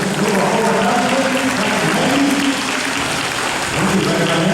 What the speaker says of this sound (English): How about a round of applause, Titus?